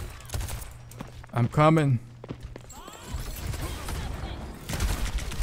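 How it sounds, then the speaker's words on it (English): Baptiste fires at enemies' feet in the Overwatch 2 video game, bursts of gunfire crackling amid footsteps and game effects, with a player talking briefly over the action. "I'm just gonna shoot at everybody's feet."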